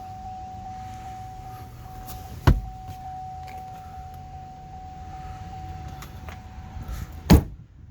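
A 2006 Chevrolet Silverado 1500 Z71 sunroof motor runs with a steady, thin electric whine for about seven seconds, with a sharp clunk partway through and another as it stops, heard close with no talking.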